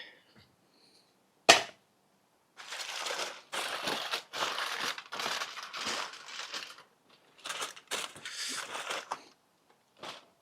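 A knife slicing into a cooked steak, a series of close scraping, crunchy cuts in bursts with short pauses between them, preceded by one sharp knock.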